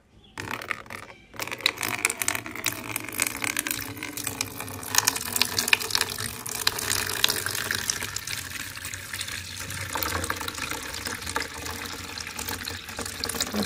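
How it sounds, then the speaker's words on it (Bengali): Tap water gushes steadily into a bathtub, a loud continuous rushing splash that starts after a brief pause and keeps going without letup. "যাই কলটা খুলে দিই, বাথটবটা যতক্ষণে ভর্তি হোক"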